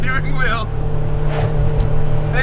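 Honda Civic Type R EP3 with a factory K20 engine drives on a road, its engine droning steadily inside the cabin beneath a voice.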